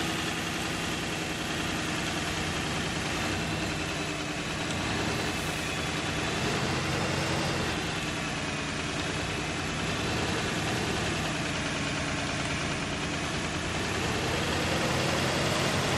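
A T-150K tractor engine in Farming Simulator 19 runs continuously, a steady mid-to-low droning rumble that holds even and unbroken throughout with no talk over it.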